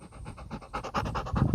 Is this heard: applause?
no